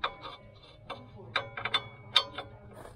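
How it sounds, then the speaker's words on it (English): Soft ratcheting ticks from a wrench loosening the bottom bolt of a shock absorber on a 1985 IROC-Z, in light irregular clicks, close but faint. "Going to just take off this bottom bolt on the shock"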